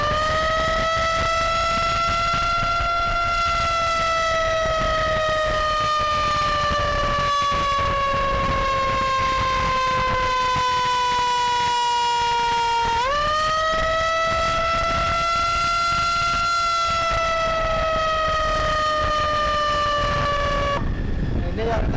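Loud 'setan'-type ambulance siren on a Hyundai ambulance, a continuous piercing electronic wail that slowly falls in pitch, jumps back up and repeats, sustained close and dominant throughout.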